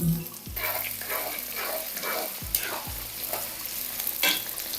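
Small onions and garlic sizzle in a hot pan for drumstick thokku, a steady frying hiss broken by repeated scraping stirs of a spoon, close and fairly quiet.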